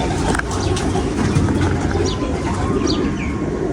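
Female flying pigeons coo softly in a steady, close murmur over a constant wash of broadband background noise, with no one speaking.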